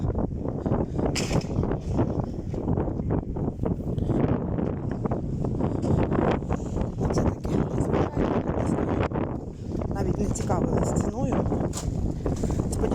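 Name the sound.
wind noise on microphone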